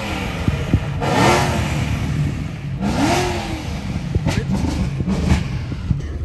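A ProCharger-supercharged Ford Mustang revs at a car meet, loud and close, with two rising engine sweeps and supercharger whine followed by choppier throttle blips, crowd noise in the background.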